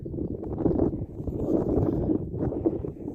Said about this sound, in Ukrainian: Такий вітер прямо як морозний.